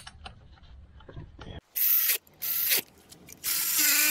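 A ratchet tightens the differential case brace bolts on a Range Rover L405 in a few short, loud clicking bursts separated by brief pauses.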